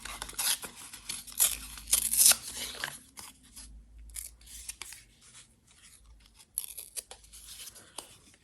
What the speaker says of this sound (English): I think I will just tear a piece off this and then glue that over that tear.